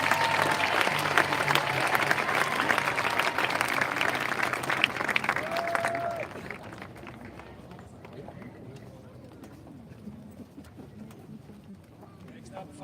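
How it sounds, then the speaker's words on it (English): A school audience applauds a fifth-grade class at a promotion ceremony with a loud, dense burst of clapping that fades after about six seconds to a quieter room murmur, with voices audible. "Round of applause for"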